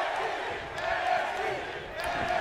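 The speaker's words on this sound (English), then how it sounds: "Crowd is chanting NXT" Video game arena crowd in WWE 2K19 chanting NXT in a steady, rhythmic swell of many voices, fairly close and continuous, rising and falling in rough pulses.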